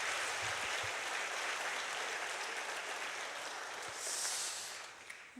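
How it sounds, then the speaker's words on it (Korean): Congregation applauding its church ministers at a Friday revival service, steady broadband clapping from a large crowd filling the room, swelling briefly near the end before tapering off. "우리 교역자들을 위해서 한번 격려의 박수 하면 좋겠습니다."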